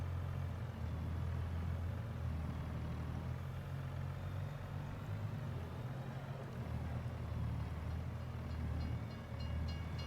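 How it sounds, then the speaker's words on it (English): A train rolls past in the farming game Farming Simulator 22, a steady low rumble of wheels and cars that holds at an even, moderate level throughout. "Train was a coming."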